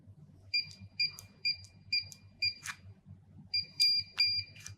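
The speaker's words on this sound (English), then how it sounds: "The keypad should beep twice, indicating that I've entered the master password correctly for access code programming." USAutomatic wireless gate opener keypad giving a string of short, sharp electronic tones as buttons are pressed, then a closing pair of confirmation beeps, close and clear over a low background hum.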